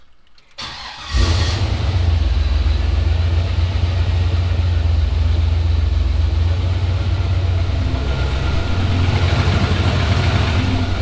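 A turbocharged LSX V8 cranks and fires, then settles into a loud, steady, rumbling idle that holds close and unbroken for the rest of the stretch.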